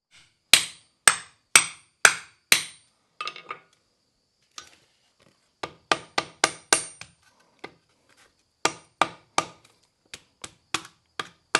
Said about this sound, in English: just going to use the air hammer attachment